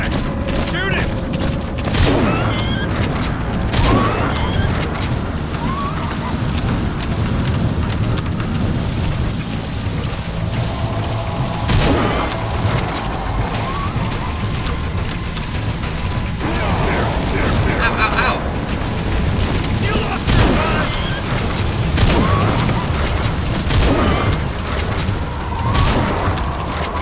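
Shotgun fire and explosions in Metal Gear Solid V in Afghanistan, heavy booms and sharp blasts scattered over a busy battle din, with someone talking over the action.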